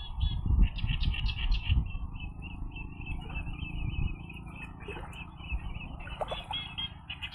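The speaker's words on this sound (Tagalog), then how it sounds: "Yung huni ng ibon guys, puntahan natin." Repeated bird calls sound out in a shallow mangrove amid busy, rustling low-pitched background noise, the calls coming in short bursts at moderate distance.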